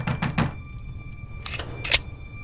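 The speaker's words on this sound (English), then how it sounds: "The knocking only grew louder, heavier, until the door itself rattled on its hinges." Heavy pounding knocks on a front door at night: a quick burst of three loud thuds, then a pause before two or three more blows, with a faint ring lingering between them.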